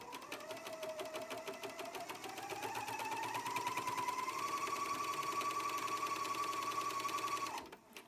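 A Bernina sewing machine stitching through several layers of fabric for a pillow slip, a steady rapid whirring hum that slowly rises in pitch as it speeds up, then stops abruptly near the end.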